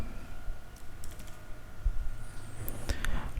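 Someone types on a computer keyboard while working in Microsoft Excel. Faint, scattered key clicks sit over a low room hum, growing a little busier toward the end.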